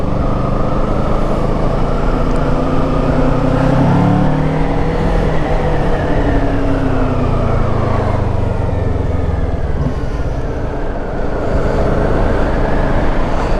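Kawasaki Ninja 650 motorcycle riding on a road, its engine droning continuously with rising and falling pitch as revs change, loud and steady over constant wind rush.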